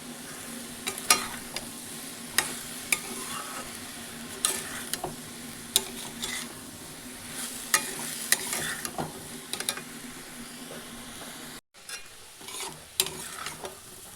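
Salt and turmeric being stirred in a hot pan for a healthy breakfast dish, a steady low sizzle broken by repeated scraping strokes of the spoon against the metal, close and moderately loud, with no talking.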